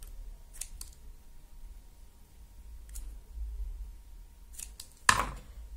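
Scissors snip the excess cord of a knotted macramé ring once near the end, a sharp close cut after a few faint handling clicks in a quiet room.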